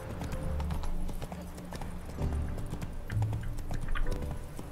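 Hooves clip-clop steadily as a horse is ridden along a route in The Witcher 3, a quick, even rhythm of soft thuds close by, with faint ambient sound beneath.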